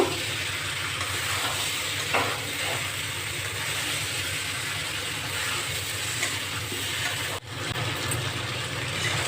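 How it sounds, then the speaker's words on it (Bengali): Vegetable biryani ingredients, including beans and salt, are stirred in a hot frying pan, giving a continuous close sizzle with soft scraping and shuffling of the food throughout. "এবার ভালো করে আমি নেড়ে নেব"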